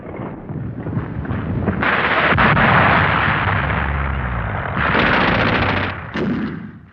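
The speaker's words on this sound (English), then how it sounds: "the German bombardment stopped" A German artillery bombardment from 1940 rolls on as dense, continuous booming and rumbling blasts, loud and close, swelling in waves with sharp bursts layered over a deep roar.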